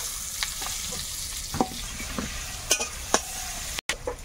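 Chopped onion hits hot oil with whole cumin seeds in a pan, setting off a soft continuous sizzle broken by scattered clicks and scrapes of stirring, close and fairly quiet, with no voices.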